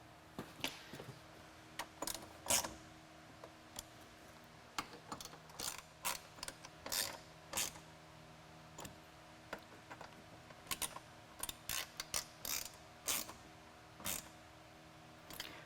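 Bolts on Ford Bronco four-door hard top side Molle panels being tightened by hand, a quiet series of scattered ratcheting clicks and mechanical ticks in short bursts with pauses between.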